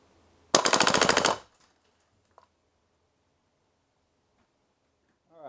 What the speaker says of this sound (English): trying to do full auto